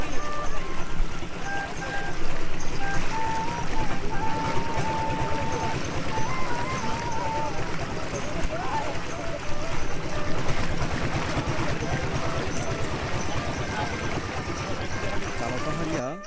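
Riverboat ride on the Meghna river near a mid-river char, with a steady low engine drone and water wash running throughout, people talking over it.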